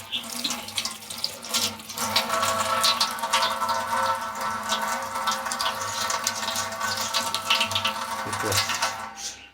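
Tap water runs steadily into a sink while potatoes are washed in a home kitchen during a cooking show, a continuous splashing stream with someone talking over it.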